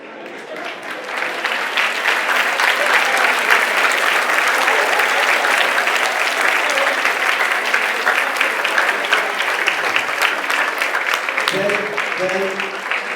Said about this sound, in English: please stand because we want to clap for you